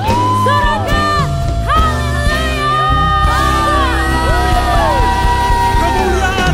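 A church congregation at a worship service cheers and shouts together, a loud, continuous mass of overlapping voices and rising whoops.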